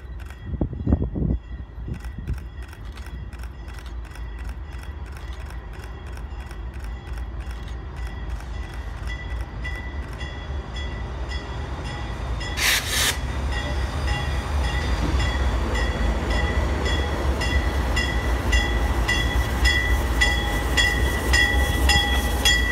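Norfolk Southern locomotives, including heritage unit NS 8114, rumble steadily along the rails in Massachusetts, the low drone growing louder and fuller toward the end, with a brief sharp burst midway.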